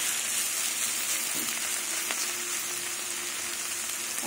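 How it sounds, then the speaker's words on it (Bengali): Mushrooms and carrots fry in a pan with a steady, close crackling sizzle that runs unbroken throughout, with a faint clink near the middle and no voices. "আর মাশরুম ভাজা ভাজা হবে,"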